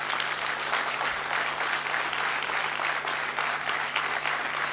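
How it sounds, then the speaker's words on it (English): Sustained applause fills a convocation ceremony hall, a dense, steady wash of many hands clapping at close range throughout with no pause. "A special round of applause for Professor Srinath."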